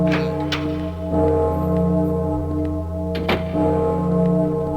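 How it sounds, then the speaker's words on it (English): A clock tower bell rings out in a video game, a low, sustained tone that hangs and layers in long resonance, with a couple of faint knocks over the top. "The clock's chiming."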